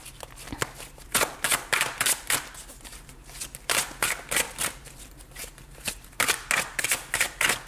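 Tarot cards shuffled by hand for a new spread give off bursts of crisp riffling and flapping in quick clusters, close and clear with brief pauses between rounds.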